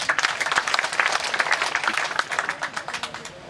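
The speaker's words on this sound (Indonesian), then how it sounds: "Kita berikan aplaus beliau." A crowd at an official agricultural working visit gives a dense, steady round of applause for a parliamentary committee leader. The clapping is close and loud at first, then thins and fades toward the end.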